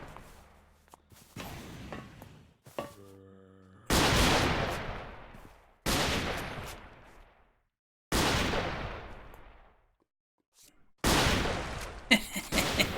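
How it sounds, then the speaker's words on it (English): Rifle shots boom in the modded video game Minecraft, four loud single blasts spaced a couple of seconds apart, each decaying in a long echoing tail, with a brief tonal game sound and quieter clatter between. "Just using my normal rifle, not the sniper rifle, so that's why they're not dying straight away"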